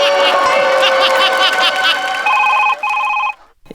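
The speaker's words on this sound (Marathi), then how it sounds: "सर 1 मिनिट, मला फोन आला सर." A telephone rings with a bright electronic trill, loud and close, over a noisy crowd backdrop with a laugh before the tone cuts off.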